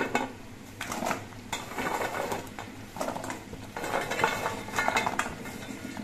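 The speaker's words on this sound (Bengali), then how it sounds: "এবার এর মধ্যে আমি গজাগুলো দিয়ে দিচ্ছি।" Fried gaja sweets tip into thickened sugar syrup in a pan, giving a few close metallic clinks and scrapes of a spatula against the pan in short, uneven bursts.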